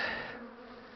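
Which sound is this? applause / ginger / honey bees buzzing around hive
honey bees buzzing around hive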